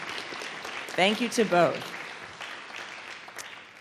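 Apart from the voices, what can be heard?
audience applause at a lecture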